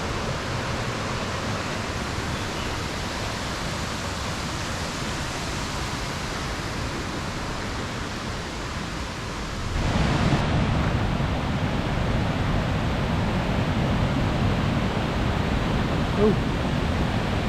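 A river in flood near Henrhyd Falls, a broad continuous rush of water that swells noticeably louder partway through, as if moving closer to the torrent.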